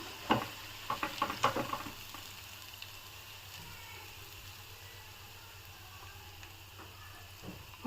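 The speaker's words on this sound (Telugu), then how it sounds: "క్యాబేజీ ఆనియన్ పకోడీ బాగా వేగిపోయినాయి" Cabbage onion pakoda frying in hot oil, a steady soft sizzle with a few louder stirring clatters early on, then a continuous even bubbling hiss.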